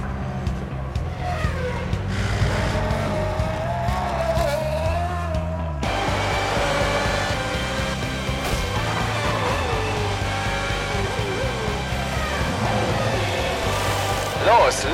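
Formula One race car engines from F1 2010, a steady high-revving whine with rising and falling pitch sweeps, a sharp cut partway through into a fuller, louder passage, with shouted voices mixed in.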